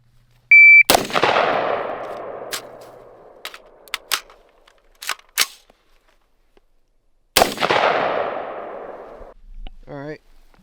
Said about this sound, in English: This is my first time shooting this gun